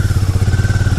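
A Harley Davidson X440 motorcycle pulls hard in third gear on a night ride, its single-cylinder engine giving a steady, throbbing low drone with a whine above it, loud and close with no voices.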